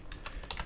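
Computer keyboard keys clack in a quick run of about five close, crisp presses while working in Unreal Engine 4.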